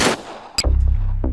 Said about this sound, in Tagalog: isang putok ng baril ang umalingaw-ngaw